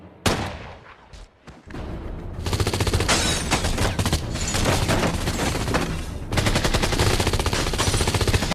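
Sustained bursts of gunfire, rapid automatic shots crackling loudly and continuously, with a brief lull early before heavy firing resumes.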